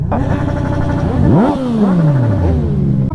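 Several motorcycles ride out one after another, engines revving and rising in pitch before a clear pass-by dips away, loud and close with steady mechanical rumble.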